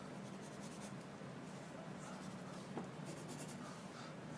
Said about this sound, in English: Try and keep that pencil crayon running in the same direction.